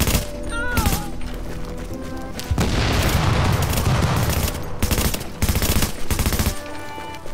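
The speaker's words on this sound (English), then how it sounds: "I like that grenade explosion thing on their death" Gunfire rattles in rapid bursts in a video game, broken by a heavy grenade explosion that fills the middle with a loud booming roar before more close, sharp shots follow.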